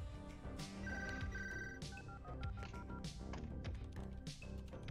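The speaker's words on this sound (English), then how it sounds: "my daughter was ringing my phone" A phone ringing, its electronic ringtone tones repeating in short bursts over a busy background of game music and effects, fairly quiet overall with no talking.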